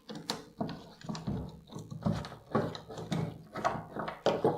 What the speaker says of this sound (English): this style is a 2-bolt style, so we're just gonna remove those bolts